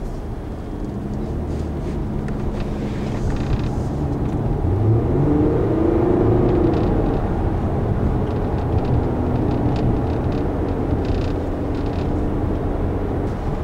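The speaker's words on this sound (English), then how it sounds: "The engine makes a decent sound" Steady engine drone from inside a moving 2013 Infiniti JX35 SUV on curves, with a brief rise in pitch as it accelerates, continuous and moderately loud.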